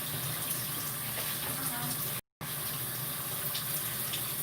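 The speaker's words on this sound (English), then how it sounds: "Let me run me some hot dish water" Hot tap water runs into a kitchen sink for washing dishes, a steady hissing gush with a brief cut partway through.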